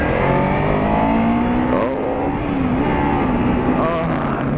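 A motorcycle engine revs loudly and close, holding a strong steady roar with the pitch rising and falling slightly through the revs.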